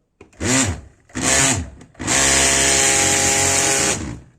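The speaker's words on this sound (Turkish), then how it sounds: "fanın pervanesinden birkaç pervane düşmüş Şöyle gıcık bir ses çıkarıyor" A hair dryer fan with several broken blades whirs up twice in short bursts, then runs steadily with a harsh, rattling, buzzing roar.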